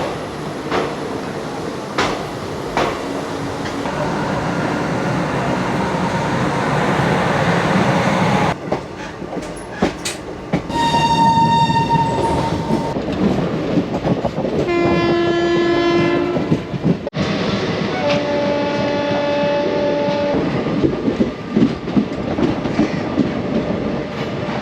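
Vibhuti Express 12333 runs out of Patna station with loud continuous rail rumble and clickety-clack, interrupted by several long, tonal horn blasts in the middle and later stretch.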